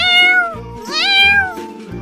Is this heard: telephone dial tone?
no